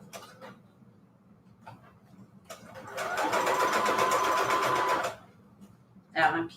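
A sewing machine stitches through paper envelopes made from scrap paper, running in a steady loud burst for about two seconds, with shorter stops and starts around it and quiet handling between runs.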